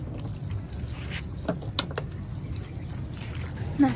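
Seedlings are watered before being moved into fresh growing medium: a soft, steady trickle and patter of water over a low background hiss, with a few faint drips standing out.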